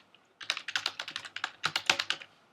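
Fast bursts of computer keyboard typing, a quick run of crisp clicky keystrokes in two clusters with a short pause between, close and fairly quiet with no talking.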